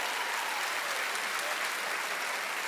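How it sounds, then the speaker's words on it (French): An audience at a magic show applauds a volunteer, a dense, steady wash of clapping from a large crowd that fills the whole moment without a break. "Un tonnerre d'applaudissements pour la magnifique Ginette"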